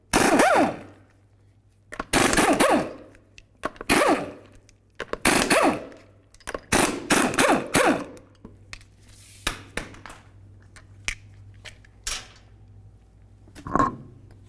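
A power impact tool removes the 19mm lug nuts from a Honda CR-V wheel, several loud, close bursts of rapid hammering rattles separated by pauses, followed by scattered lighter clanks and taps.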